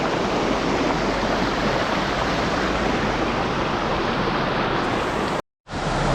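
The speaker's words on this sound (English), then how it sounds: "This is the combined flow flowing down into the Rockport confluence of the Lehigh River." Buck Mountain Creek rushes down into its confluence with the Lehigh River at Rockport, a loud, steady broadband roar of flowing water that cuts out briefly near the end.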